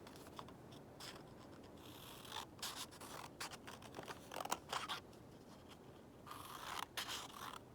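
Scissors snip along printed lines on white paper in a steady series of close, crisp cuts, quiet and on their own with no voices.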